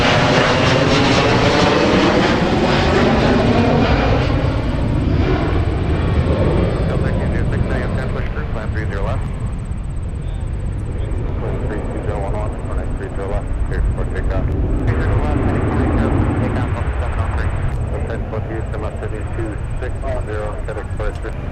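A departing airliner at Minneapolis–St. Paul airport turns after takeoff from the north parallel runway, its engine roar a steady, broad rumble heard over a nearby talking voice throughout.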